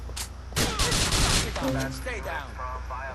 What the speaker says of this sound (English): the cops are already attracted from the gunfire